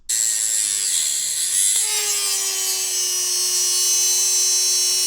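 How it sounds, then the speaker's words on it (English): A multi-tool cuts into a suspension drop link nut on a Ford Fiesta Mk7, a loud, continuous high-pitched buzzing grind whose pitch steps down about halfway through as the blade bites into the metal. "you could resort to getting a multi-skill tool and cutting through this nut"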